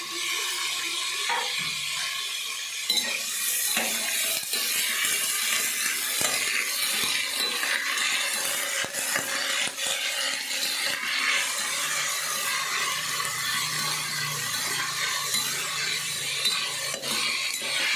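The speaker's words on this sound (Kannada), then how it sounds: "ಅವರೆಕಾಳು, ಕ್ಯಾರೆಟು, ನಾವೇನು ತಗೊಂಡಿದ್ದೀವಿ ತರಕಾರಿ ಅವೆಲ್ಲ ಹಾಕ್ಬಿಟ್ಟು ಸ್ವಲ್ಪ ಫ್ರೈ ಮಾಡೋಣ" Field beans and carrots fry and get stirred in a pan for a village-style vegetable pulao, a continuous soft sizzle with scraping of a spoon and occasional clinks, no talking.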